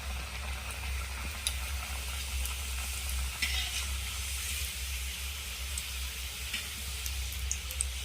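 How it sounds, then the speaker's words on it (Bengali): Onion rolls wrapped in flour dough and stuffed with filling sizzle steadily in hot oil, giving a soft, continuous hiss with occasional faint pops and no speech. "এইভাবে আমি সবগুলো ভেজে নেব"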